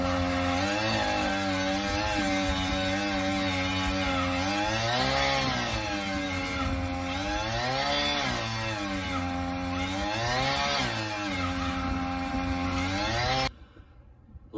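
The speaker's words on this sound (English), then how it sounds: "Love to hate on the auger, but man, it does the work." A power earth auger drills fence post holes with a loud, steady two-stroke engine drone that swells and dips in pitch as the bit bites into the ground, then cuts off abruptly.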